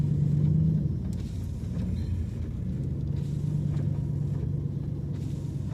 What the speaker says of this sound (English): So the truck was finally able to move